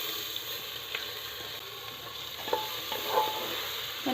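Freshly washed new arwa rice is roasted in ghee inside a pressure cooker for masala khichdi, giving a soft, steady sizzle with occasional scraping stirs, close by and without voices.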